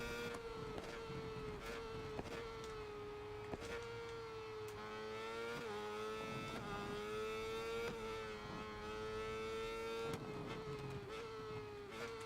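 A racing motorcycle engine in the video game SBK 22 revs high and drops with each quick upshift, a steady buzzing drone with repeated pitch steps, heard without speech.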